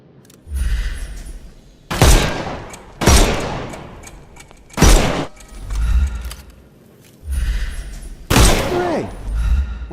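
Gunfire in the Sherlock Holmes Chapter One video game: loud, close bursts of shots erupt several times in quick succession, each volley followed by a rumbling decay and a short lull before the next.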